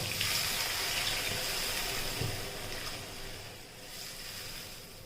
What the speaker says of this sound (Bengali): এবার এর মধ্যে দিয়ে দেবো একটু জল।